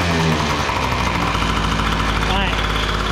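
A Yamaha Hyper Aerox scooter engine runs loud and close with a rough, steady buzzing tone and no distinct rev rise, while a person talks over it.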